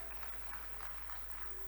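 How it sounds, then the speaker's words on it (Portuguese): A seated audience at a political rally applauds continuously, a faint, steady patter of many hands clapping at a distance. "O nosso aplauso para estes lindos professores."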